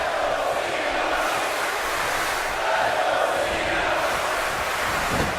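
Broad, steady arena crowd roar from a WWE 2K18 wrestling match, a dense wash of massed voices that swells slightly midway and stays loud and continuous, with no distinct chant rhythm standing out.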